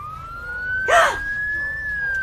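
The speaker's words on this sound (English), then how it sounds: "That was really a loud siren of a fire truck." A fire truck siren wails as one long, loud, steady rising-and-falling tone over faint background rumble, with a brief burst of other noise partway through.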